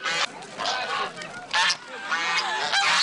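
A flock of about 50 geese honks loudly and repeatedly as a herder tries to drive them under a bench and between two women. The calls are close, overlapping and come in dense bursts with no letup.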